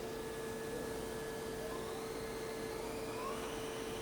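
A 2004 Nakamura Tome WT-150MMY twin-spindle CNC lathe's sub-spindle runs up to speed, a steady airy hiss with a constant mechanical whine and a faint rising tone, heard alone and fairly quiet.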